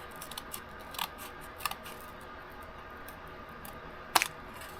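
Scissors cut a piece for an octagon insert in a Scottish castle box, probably paper or card. A few quiet snips and one sharper close snip near the end over a low background hiss, with no talking.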